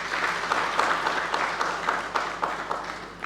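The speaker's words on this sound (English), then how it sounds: "So maybe if we could give ourselves a round of applause there." Applause fills a conference hall at an African safety and sustainability congress, a sustained crowd of hands clapping at moderate volume with a soft, even texture and slight swells.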